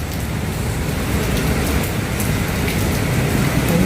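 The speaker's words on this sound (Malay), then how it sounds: "Tapi hujan guys, macam mana ni?" Steady heavy rain falls outside a high-rise hotel in Kuala Lumpur, a dense, even wash of drops that stays loud and unbroken throughout, with no voices over it.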